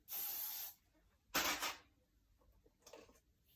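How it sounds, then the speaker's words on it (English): Three bursts of hairspray hiss onto backcombed hair during a bridal mohawk styling, the first long and steady, the second shorter and sharp, the last brief and fainter, separated by quiet gaps. "Spray."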